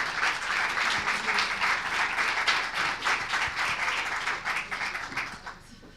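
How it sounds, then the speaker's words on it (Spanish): An audience at a Latin American climate change report presentation applauds: a full, crowded burst of clapping that holds steady for several seconds, then tapers off near the end. "Damos un aplauso."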